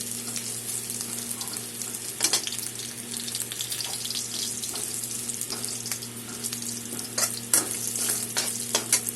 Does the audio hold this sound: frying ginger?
yes